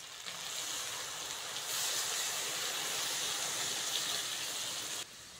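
A little water poured over mustard paste in a hot pan for a prawn and taro-stolon dish sets off a steady sizzling hiss that swells partway through, then drops off abruptly near the end.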